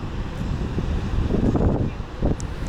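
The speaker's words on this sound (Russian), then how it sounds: "прямо песок струится по пляжу от такого сильного ветра" Strong wind blows across a beach in Ericeira, Portugal, buffeting the microphone with loud, gusty roaring and low rumble, swelling in bursts with faint surf-like wash underneath.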